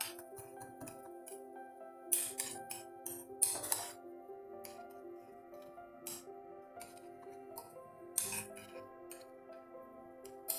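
Lightly salted potatoes being mixed in a bowl give quiet, scattered clinks and taps of a utensil against the dish, irregular and soft, with no talking.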